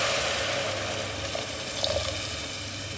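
A cup of water is poured into a pan of pasta with tomato sauce and minced meat, a steady close rushing pour with a brief bubbling splash near the end.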